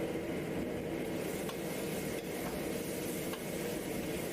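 Chopped chili sauce and blanched noodle pieces are stir-fried in a wok for a Chinese halal fried-noodle dish, giving a steady, close sizzle and hiss with a faint scrape of stirring and no talking.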